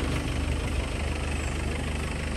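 Car engine with a crankshaft oil leak, idling steadily with an even low rumble and a fairly quiet, continuous drone from start to finish.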